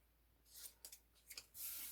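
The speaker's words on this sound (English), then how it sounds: "I'm just going to use my scissors" Paper is cut with scissors while making a mini scrapbook album, a few quiet snips followed by a longer sliding cut, close and clear in a quiet room.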